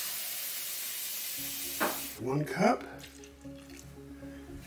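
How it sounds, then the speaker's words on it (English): Warm water runs from a kitchen faucet into a measuring cup as a steady, close hiss that stops after about two seconds, followed by a person speaking over a low hum. "So I'm going to get the water warm out of the faucet."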